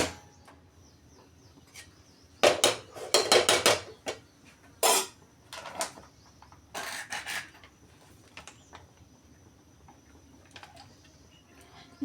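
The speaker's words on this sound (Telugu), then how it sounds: "మూకుడు పెట్టి మూకుడు పెట్టేసి" A metal kadai set down on a kitchen stove, heard as several short clanking and scraping metallic knocks clustered together, then a few lighter taps, with quiet room sound between and no talking.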